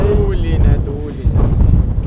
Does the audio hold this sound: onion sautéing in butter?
no